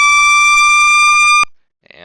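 A loud, steady electronic fire truck siren tone in a firefighting video game holds for over a second and then cuts off abruptly, followed by a faint, brief warble.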